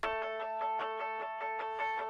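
One take of an electric guitar octave layer plays a quick, regular stream of picked notes with a ringing, bell-like upper tone, near and even in level, with nothing else underneath.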